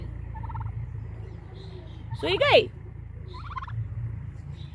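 Male and female turkeys on a farm near Gir forest: one loud, close, rippling gobble bursts out midway, with fainter calls before and after and a brief spoken remark.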